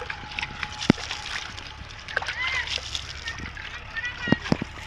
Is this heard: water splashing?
yes